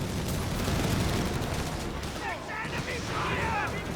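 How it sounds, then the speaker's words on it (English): Rapid gunfire and sniper shots from a Company of Heroes 3 match, Wehrmacht against British forces, crackle steadily beneath a caster's running commentary amid dense battle noise. "Now, Ray, they're keeping up pressure with the Stewards here, sniping away"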